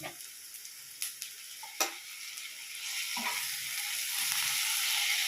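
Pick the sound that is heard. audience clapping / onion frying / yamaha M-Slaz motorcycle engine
onion frying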